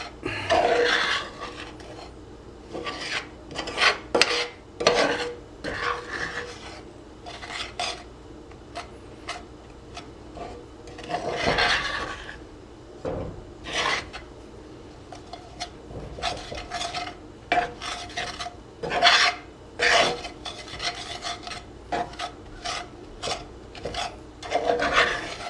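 Cookie dough being mixed with flour in a bowl for an iron skillet cookie, the sides scraped down: repeated rasping, rubbing strokes in uneven bursts, close and fairly quiet, with no talking.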